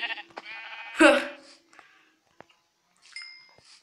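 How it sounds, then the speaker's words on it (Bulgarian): A sheep in a survival video game, near mountains and a cave, lets out one loud, close bleat around the middle, with game sounds and someone talking before and after. "Овцо."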